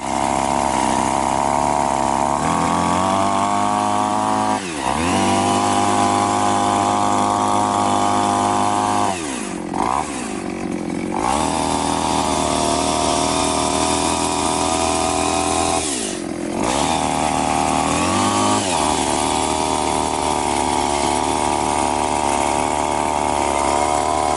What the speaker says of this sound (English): I'm going to get the strimmer out, put this on, take the strimmer head off, put this on, and then play with it and see what it's like